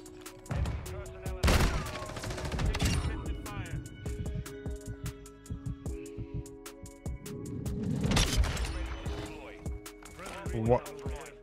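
Lockwood MK2 gunfire in Modern Warfare 2 gameplay, a few loud single shots and short bursts against game music and effects, with speech heard at points.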